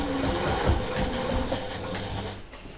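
A sewing machine top stitching a fabric pouch, a continuous close mechanical whir with faint rhythmic clatter, running steadily throughout.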